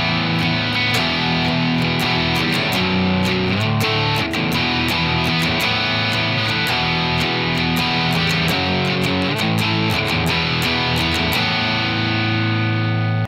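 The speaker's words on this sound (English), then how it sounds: "we'll play 4 bars of that intro riff, and then we'll play the exact same riff again, just with gain." An electric guitar with heavy gain plays the intro riff of a song, steady and dense with distortion, sustained notes repeating for several bars without any voices.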